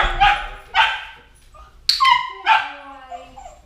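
A dog barking indoors close by, a handful of sharp, high yips and short barks in an uneven series, loud and alone.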